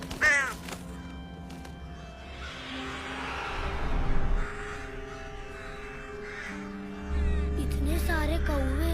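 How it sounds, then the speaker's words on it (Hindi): Many crows cawing overhead in a menacing swarm, harsh calls layered over a continuous low rumble of wind or a passing vehicle, with one burst of bird cries opening and another closing the stretch. "इतने सारे कौवे।"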